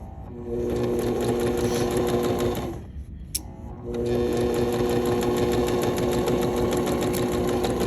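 A sewing machine stitches a flat felled seam in a steady close rapid whir, pausing briefly midway with a click before running on at an even pace.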